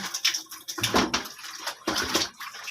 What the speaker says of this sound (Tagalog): Hugasan natin na maayos.